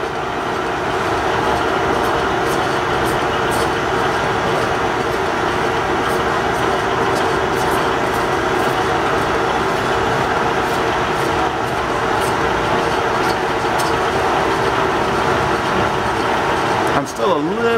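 A lathe cuts super-thin-walled pipe supported by a follow rest, a loud steady rumbling, rattling machining drone that runs continuously throughout with a brief squeal near the end.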